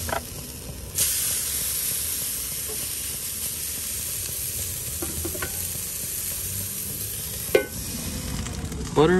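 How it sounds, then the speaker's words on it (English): Kobe A5 beef frying in a pan inside a truck, giving a steady, close hissing sizzle throughout, with a few brief clicks and scrapes over it. "I'm gonna cook the Kobe one."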